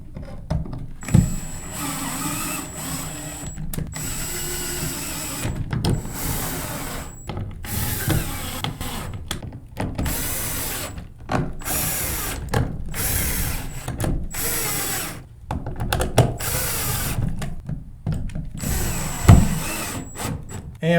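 Screws driven back into the bottom plate of a Minn Kota Ultrex trolling motor foot pedal with a powered driver: short, close whirring bursts stop and start repeatedly over a steady mechanical background.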